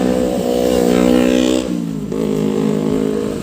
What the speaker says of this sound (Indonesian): ada motor lewat ya, video malam.